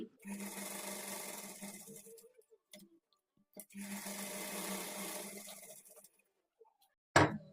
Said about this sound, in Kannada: ಈಗ ಆರ್ಮೋಲ್ ಡಾಟ್ ಹತ್ರನೂ ಸಹ ಸ್ಟಿಚ್ ಮಾಡ್ಕೊಳ್ಬೇಕು ಈ ಮಧ್ಯದಲ್ಲಿ ಸ್ಟಿಚ್ ಮಾಡ್ಕೊಳ್ಳಿ